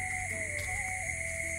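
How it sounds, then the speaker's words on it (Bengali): Crickets at night give a steady, high, unbroken drone, faint and even throughout with no voices. "রাত্রে ঝিঝি পোকার ডাক, মাশাআল্লাহ কি সুন্দর বলবো"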